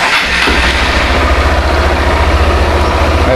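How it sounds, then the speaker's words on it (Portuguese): A Honda XRE 190 motorcycle engine starts and settles into a steady, loud single-cylinder idle, close by with a regular low thumping pulse and no voices. "Ligar a moto para ver se deu certo."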